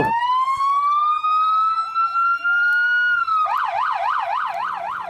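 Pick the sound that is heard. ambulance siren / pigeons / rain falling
ambulance siren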